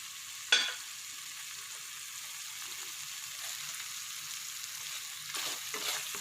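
Mushroom curry stirred in a pan, a soft steady hiss of cooking with a sharp scrape of the spoon near the start and a few more stirring scrapes toward the end, no talk.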